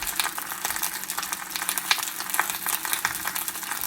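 Chicken browning in a frying pan, with teriyaki chicken and baby bok choy cooking, gives a steady close sizzle with scattered crackling pops throughout, no voices.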